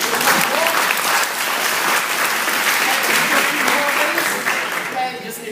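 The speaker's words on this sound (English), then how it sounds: "Round of applause for that one." An audience claps loudly after a hydrogen gas chemistry demonstration, a full dense round of applause that holds steady for several seconds then begins to thin out at the end, with a voice faintly under it.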